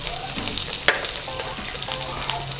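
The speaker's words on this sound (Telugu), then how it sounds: "ఇవన్నీ ఒకసారి ఇలా ఫ్రై చేసుకోవాలి" Ginger, garlic, curry leaves and green chillies fry in hot oil for an egg 65 starter, giving a steady close sizzle with a sharp clink or stir near the start.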